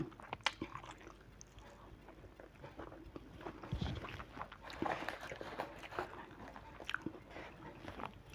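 Crunchy vegetable being chewed close to the mic during a meal alongside spicy Thai-Lao mackerel dip, with irregular bites and crunches amid light mouth noises and faint background.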